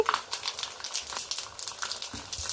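Medium-sized Bombay rava and sago vadiyalu, fried three or four at a time, crackle and bubble in hot oil with an uneven, popping sizzle up close and no voices.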